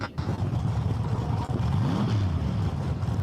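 A top dragster racing down a drag strip, a loud, rough engine roar with a rising whine midway, heard over open-air crowd and track noise.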